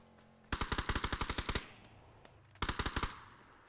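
Automatic gunfire in the video game PUBG: a loud burst of about eleven rapid shots, a short pause, then a second quicker burst of about six shots.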